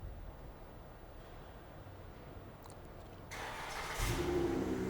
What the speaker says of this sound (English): this vehicle does feature remote engine start